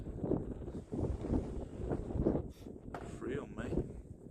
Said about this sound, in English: There's so much wind.